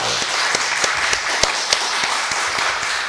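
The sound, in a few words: church congregation applauding the choir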